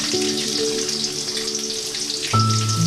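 Chopped onions frying in oil with cinnamon, bay leaf and white cardamom, a steady close hiss and crackle of sizzling with faint tonal hums in the background, no speech.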